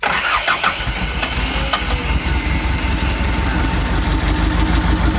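The engine of a water pump in a durian orchard irrigation system starts and revs, a loud, close, continuous mid-to-low rumble that holds steady throughout.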